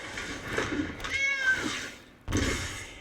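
A cat's meow from the digital card game Magic: The Gathering Arena sounds as a clear, drawn-out electronic meow between bursts of game sound effects.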